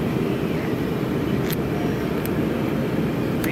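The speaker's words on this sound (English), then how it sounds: "I'm on an airplane right now, so it might be loud." Steady, loud broadband roar of an airplane cabin with engine drone, constant throughout with no talking.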